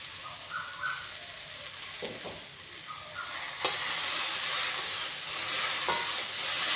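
Okra frying in a pan with curry leaves while being stirred: a continuous soft sizzle with occasional scraping strokes of the spatula that grow a little louder toward the end, close by and without speech.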